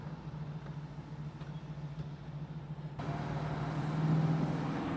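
A 1968 Camaro RS cruising on the road, its steady low engine drone rising and growing louder partway through as the car accelerates, with road rumble and no voices.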